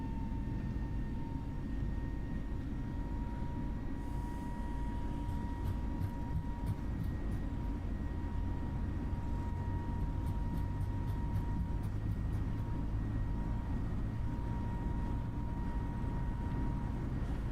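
Flybywire A32NX airliner at full takeoff thrust rolling down the runway in a flight simulator, a steady loud low roar with faint sustained engine whine tones running throughout.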